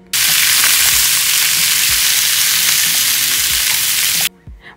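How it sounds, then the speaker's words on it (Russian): Onion and chopped pork frying in hot oil until browned, a loud, steady, dense sizzle running throughout before stopping abruptly near the end. "В то же самое масло мы высыпаем лук и нарезанную нашу свинину и обжариваем до румяной корочки"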